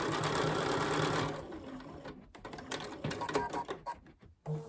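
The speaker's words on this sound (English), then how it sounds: "I'm going to stitch this red part down." A sewing machine stitches a felt penguin gift card holder, first in a continuous near whir, then in short stop-start bursts of stitching, with no talk.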